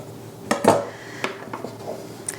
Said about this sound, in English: So now we take the knife and cut right down the center